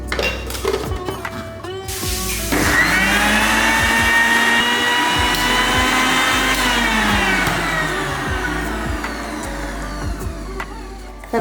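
A mixer grinder grinding small shallots and tamarind runs as a loud steady electric whine after a brief start, its pitch shifting slightly as the load changes, with some clattering near the start.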